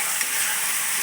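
Dal and onion sizzle and fry in a pan as they are stirred, a bright continuous hiss with faint scraping, close and steady through a short moment.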